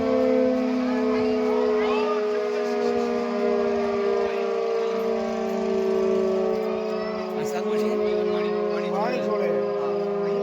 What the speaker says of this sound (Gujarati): ડેમમાંથી પાણી જે છોડે ને એની પહેલાં સાયરન વગાડવામાં આવે તો આ સાયરન એનો હોય